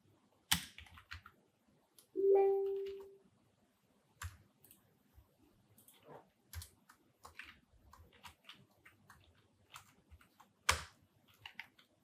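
Scattered, quiet keystrokes on a computer keyboard while C program code is typed, with short irregular clicks and brief pauses and a single short tonal blip near the start.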